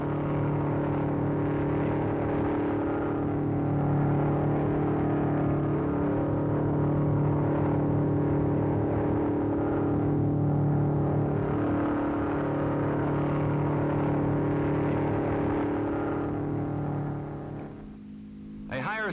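A 1956 MG record car runs on the Bonneville Salt Flats, giving a steady droning engine whir with slow swells in pitch and loudness, fading near the end, under continuous narration.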